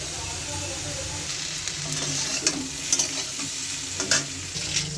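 Eggplant fries in oil without salt in a pan, a steady close sizzle with occasional stirring scrapes and taps.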